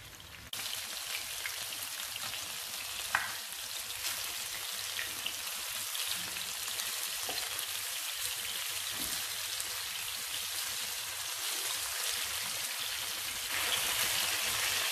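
Food sizzles and browns in a pan over raised heat, a steady crackling fry with scattered pops and spits running continuously, close and fairly loud, with no voices.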